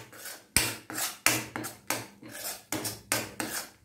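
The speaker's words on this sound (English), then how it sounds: "So stir it well here" Badam burfi mixture is stirred in a pan with a steady run of scraping, rasping strokes, about ten close, even passes with no talk.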